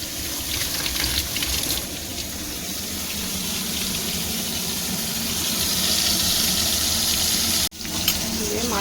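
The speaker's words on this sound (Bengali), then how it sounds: "এইভাবে পুরো মাছটা আমি ভাজবো।" Koi fish sizzle and hiss in hot oil in a wok, a steady, loud frying crackle that swells midway and cuts off briefly near the end.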